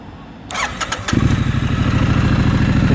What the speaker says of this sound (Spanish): el motor bicilíndrico suena de forma espectacular